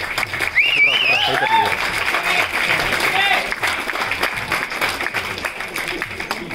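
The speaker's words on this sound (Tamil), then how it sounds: "படத்தினுடைய குழுவினருக்காக ஒரு பெரிய கைத்தட்டல் கொடுத்துடலாம்." A theatre audience at a short-film preview screening claps loudly for the film crew. The applause is dense and sustained, with scattered whistles and cheers, then slowly thins out.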